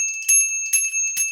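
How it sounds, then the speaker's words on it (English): Bells ring in three bright bursts with sustained high tones, alone with no talk, close and fairly loud. "there's the bells again"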